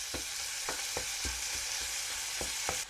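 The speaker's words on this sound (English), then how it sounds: "we are just dumping in all of this sausage into the pot" Sausage meat sizzling loudly in a soup pot for cheeseburger soup, a dense close frying hiss with several soft thuds and scrapes as it is pressed flat.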